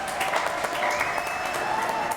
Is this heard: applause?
yes